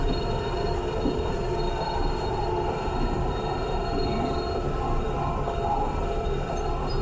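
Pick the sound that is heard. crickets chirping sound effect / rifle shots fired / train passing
train passing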